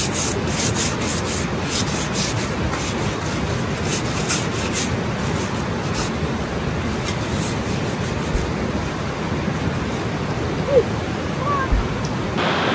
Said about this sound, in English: wadding up a piece of foil so that it can um, scrape off the bits that were there before